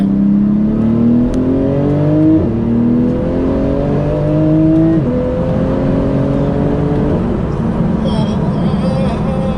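Porsche GT2 RS accelerating hard in second gear, its engine note climbing steadily through two rising sweeps with a brief dip between them, loud and close from inside the car, with a voice over it at points.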